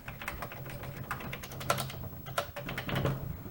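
Fingers type on the keyboard of a dirty Commodore VIC-20 with a dead A key, a steady run of close, clacky keystrokes with a few louder hits over a low electrical hum.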